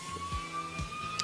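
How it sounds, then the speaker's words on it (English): A police siren wails in the distance, rising and falling faintly and steadily behind a low background hum with no talking. "And you hear the police siren in the distance."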